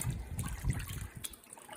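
Water drains and trickles off homemade raw milk butter, a close, soft continuous splashing and dribbling with small gushes.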